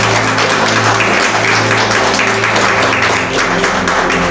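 A church congregation applauding, dense continuous clapping filling the room at close range under a steady hum of amplified sound, with no clear talk.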